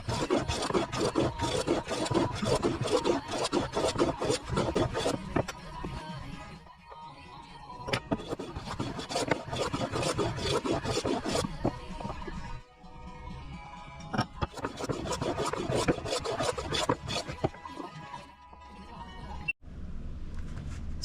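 A piece of Padauk wood is being cut with a hand saw, a close, continuous rasping and scraping with quick repeated strokes and a few brief pauses.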